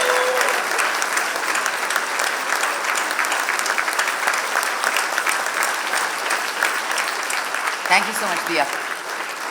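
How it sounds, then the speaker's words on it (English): Sustained audience applause at a wildlife conservation awards ceremony, a dense steady wash of clapping for an award winner, with a speaker briefly thanking someone near the end. "Ladies and gentlemen, please give the biggest round of applause."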